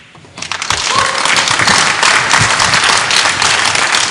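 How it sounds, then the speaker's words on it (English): A hometown crowd at a 10-ball pool championship match bursts into applause, rising quickly from quiet to dense, sustained clapping that stays loud and close throughout. "the hometown crowd likes the fact that Jeremy isn't going down without a fight"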